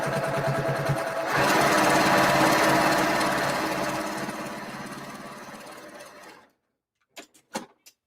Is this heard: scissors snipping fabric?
no